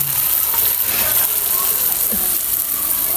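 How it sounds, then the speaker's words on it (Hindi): Chickpeas frying in spice masala for a Lahori chana recipe, giving a steady close sizzle with faint stirring scrapes throughout. "तकरीबन 5 से 7 मिनट तक हम चनों की अच्छी तरह से भुनाई करेंगे"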